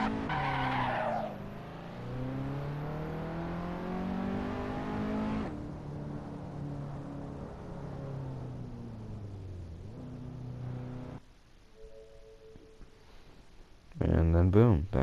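A car in the Assetto Corsa racing game launching from a standstill, its engine revving with rising and falling pitch and tires skidding, loud at first then dropping off, followed by a quieter pause and a sudden loud burst at the end.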